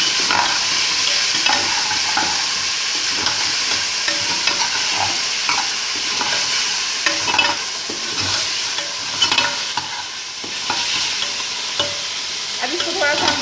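Tomato and ginger-garlic paste frying in a pan for daal mash and chana dal, with steady crackling sizzle and repeated scraping strokes of a spoon stirring throughout, close and fairly loud, with no talking.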